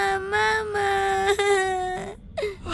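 A voice imitates a young girl crying in a doll-play village scene: a drawn-out, wavering whimpering wail, close and fairly loud, breaking off briefly near the end.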